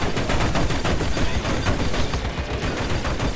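Ship weapons in the space game Star Citizen fire in a rapid, continuous burst of loud repeated shots, a dense rattling barrage that keeps up without pause.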